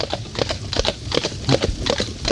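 A pair of horses in harness walk in step at a driving school in Trocoët, their hooves clip-clopping in a steady, even rhythm at close range, with no talking.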